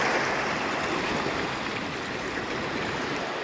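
Water rushing where two streams meet on a beach, a loud continuous broadband flow with no voices.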